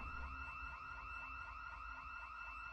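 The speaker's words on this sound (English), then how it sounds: "I don't recall ever having 3 alarms on the same day." A wailing emergency siren alarm in the video game Road to Salvation, sounding steadily and loudly throughout with a repeating rising-and-falling sweep.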